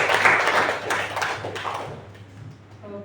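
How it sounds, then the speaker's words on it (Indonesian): Applause in a classroom physical fitness lesson for a student named Mariam: a dense burst of clapping that starts loud and gradually fades over about three seconds. "Tepuk tangan lagi buat Mariam."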